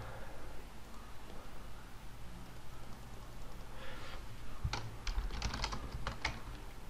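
Typing on a computer keyboard during a Shakes & Fidget game session, a soft burst of quick clicky keystrokes over a steady background hiss.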